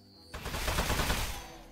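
Gunshots hammering metal in the video game Desk Job, a dense burst of loud rapid impacts that kicks in abruptly after a quiet moment and keeps up steadily to the end.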